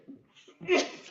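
A single quick sneeze, close and fairly soft, preceded by a brief intake of breath.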